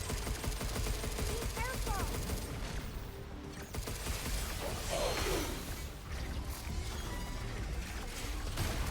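Rapid gunfire in the video game Pragmata rattles steadily through a busy, dense battle mix, with mechanical clatter and voices talking over the continuous shots.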